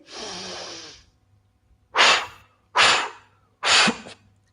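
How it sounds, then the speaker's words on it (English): Children in a kids' yoga class blow out strong breaths: one long steady exhale followed by three short, forceful puffs, each loud and breathy with a sharp start and quick fade, and no talking in between. "let's see if for the last time you can blow even stronger"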